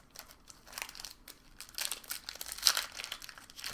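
Crinkly plastic wrapper of a Magic: The Gathering M15 booster pack being torn and opened, a run of close crackling and rustling bursts that grow busier toward the end, with no talking.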